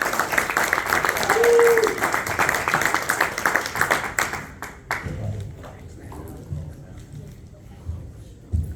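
An audience at a Legal Shield training event in Orlando claps for honoured individuals; dense, loud clapping fills the first four seconds, then thins and fades while people talk.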